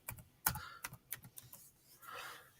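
Fingers type a short burst of keystrokes on a computer keyboard, close and quiet, with uneven tapping clicks and a softer rustle at the end.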